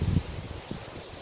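Strong wind gusting and rustling outdoors in an abandoned village, with a low, rough roar that is loudest at the start and then settles into a steady, softer rush.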